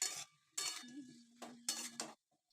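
Vegetables being sautéed together with oil and spices in a pan, heard as several bursts of scraping and clinking from a utensil stirring against the pan, with short pauses between them.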